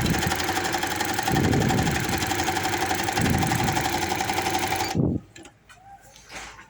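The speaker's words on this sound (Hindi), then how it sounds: "सेम इसी तरीके से मैं दूसरी साइड पे भी सिलाई लगा देती हूँ" A sewing machine runs a steady, continuous straight stitch along the side seam of a baby boy's half shirt, whirring loudly for about five seconds before stopping abruptly, followed by faint handling noises.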